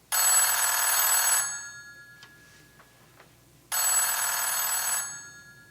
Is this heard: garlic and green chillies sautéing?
no